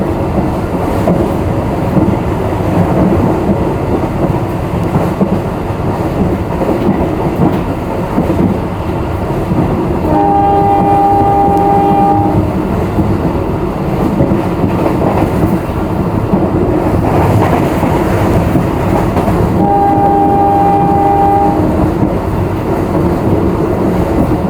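A CC 203 diesel locomotive engine roars steadily and loudly throughout, with two long horn blasts sounding partway through.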